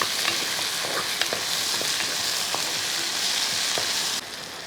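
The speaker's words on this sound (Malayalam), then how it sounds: "കൂട്ടത്തിൽ ഒരല്പ കറിവേപ്പിനും കൂടെ ഇതിന് കൂട്ടത്തിൽ ഇട്ട് കൊടുക്കും ഇനി അതുകൊണ്ടൊന്ന് കരിയാപ്പലം കൂടി ഇട്ട് ഒന്ന് ഇളക്കി" Curry leaves and potatoes frying in oil for mutton curry, a steady bright sizzle with scattered scrapes and clicks of a spoon stirring the pan, close and continuous.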